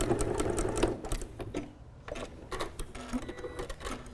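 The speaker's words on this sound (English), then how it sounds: "when I get to the end, I just backstitch a little bit." Sewing machine backstitching at the end of a seam on a tufted Christmas tree purse, quick bursts of mechanical needle clatter stopping and restarting, heard up close with no talk.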